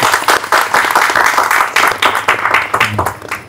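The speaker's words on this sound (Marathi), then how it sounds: "त्याबद्दल तर टाळ्या तर झाल्याच पाहिजे" An audience at a devotional Swami Samarth gathering applauds, a loud dense burst of many hands clapping close by that continues steadily and begins to thin toward the end.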